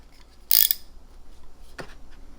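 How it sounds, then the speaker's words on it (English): A Gearwrench ratcheting medium tap wrench from a master tap and die set gives a sharp metallic click, then a second fainter click about a second later, close and isolated in a quiet room. "It has a selector on here for forward or reverse because it's ratcheting."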